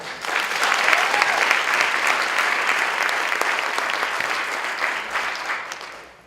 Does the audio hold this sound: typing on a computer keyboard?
no